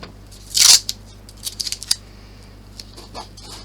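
Tape is pulled and pressed onto fabric with one loud ripping pull from the roll, followed by several small crisp snips and taps, all close up.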